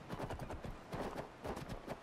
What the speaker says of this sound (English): I'm just gonna get on the horse.